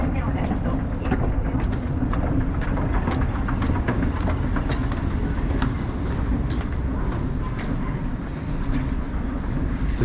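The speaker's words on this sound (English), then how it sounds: "The train going out to Tatabayashi." A train pulls out of Hanyu Station at night toward Tatebayashi, a steady near rumble with rail clatter and wind buffeting the microphone, continuous throughout in light rain.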